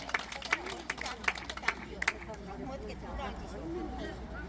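Scattered hand claps from an outdoor crowd at a public song-festival concert in a park, a few sharp separate claps at first that thin out into murmuring voices and background chatter, fairly quiet overall.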